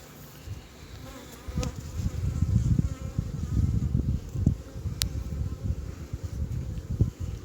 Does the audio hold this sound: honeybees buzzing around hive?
yes